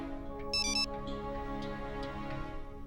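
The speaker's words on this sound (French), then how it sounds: "Pourquoi est-ce que Yash m'appelle aussi tard?" An incoming call's phone ringtone sounds as one short, bright electronic burst of tones over a low steady room hum, with faint ticking around it.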